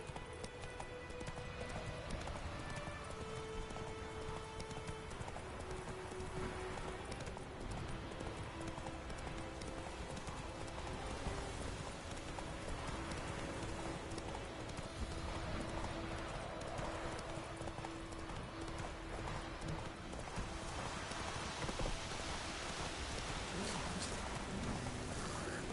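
Roach, a ridden horse in The Witcher, gallops with continuous rhythmic hoofbeats under wind and a steady game soundscape, brief tones drifting over the top.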